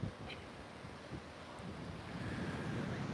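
Ocean waves rolling in on the San Diego shore, a steady broadband wash that swells gradually louder toward the end, with wind noise buffeting the microphone and no voices.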